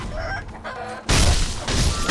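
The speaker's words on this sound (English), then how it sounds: "these roosters, I tell you, as much as you think they're nothing, they could kill you quickly." Roosters in the video game Sekiro cluck and crow in game audio, quieter at first, then a loud, dense burst of clucking and squawking takes over midway and keeps going to the end.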